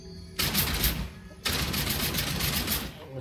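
Two rapid bursts of automatic gunfire from a weapon in the video game Outcast: A New Beginning rattle out back to back, fast and continuous, the second burst running longer.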